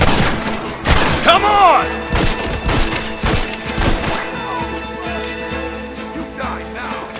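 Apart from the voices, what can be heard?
gunfire in the video game Red Dead Redemption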